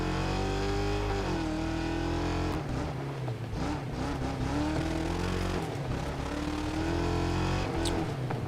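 Race cars in a racing video game, engines droning and shifting pitch continuously as they accelerate and change gear, loud and steady throughout with no talking.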